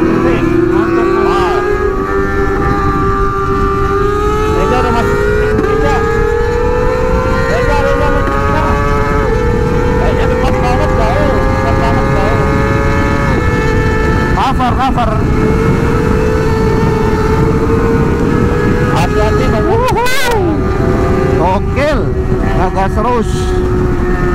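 A Kawasaki ZX25R motorcycle engine revs high and steadily on a highway, its pitch climbing in long rising sweeps through the gears, loud and close, with wind roar underneath.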